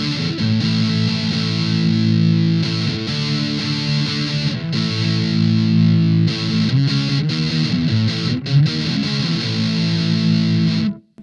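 Electric guitar played through a Maestro distortion pedal with the gain set around the middle, giving a warm, organic crunch; sustained chords and riffs ring out continuously and loudly for the whole stretch, with brief pauses before fading at the end.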